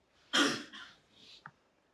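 A single sharp cough, close and fairly loud, followed by a softer throat-clearing rasp and a brief click in an otherwise quiet room.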